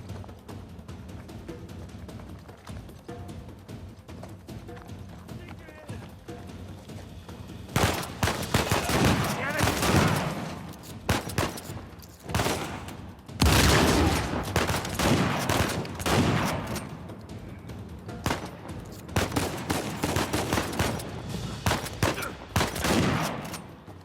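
Heavy gunfire in the Uncharted 4 video game, with dense bursts of shots and rapid volleys loud and close after a quieter opening stretch, with brief voices in between.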